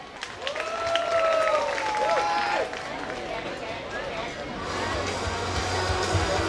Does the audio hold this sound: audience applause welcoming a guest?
yes